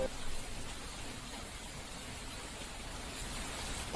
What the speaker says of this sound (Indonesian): suara hujan ternyata